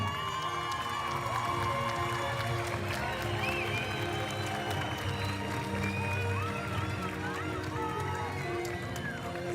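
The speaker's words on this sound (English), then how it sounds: "big applause to Natalia" Crowd applause and cheering at a field hockey award ceremony after the FIH Women's Nations Cup final in Chile. Dense, continuous crowd noise holds throughout, with shouting voices and talk mixed into it.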